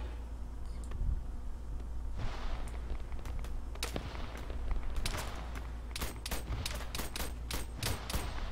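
Gunfire in Arma 3, with rapid bursts and single sharp shots cracking out, near and distant. The shots grow denser toward the end over a low rumbling backdrop.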